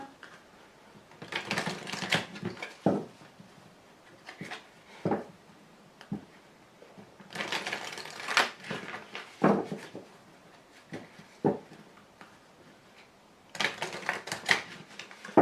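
Tarot cards being drawn and laid out, with bursts of crisp shuffling and flicking alternating with sharp taps as cards hit the table, close and moderately loud, in irregular clusters with short pauses.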